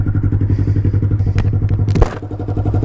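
A Grom motorcycle engine runs steadily close by with a throbbing idle, a single thud and clatter breaking in about two-thirds through.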